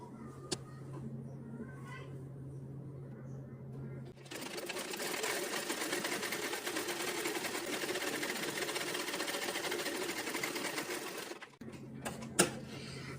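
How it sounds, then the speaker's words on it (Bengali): Sewing machine stitching two salwar pieces together, a steady fast mechanical whirr running continuously for several seconds after a quieter start, close up, ending with a brief pause and a small click. "আমরা সালোয়ারের দুইটা পার্টের একটা হাই সেলাই করে ফেলেছি"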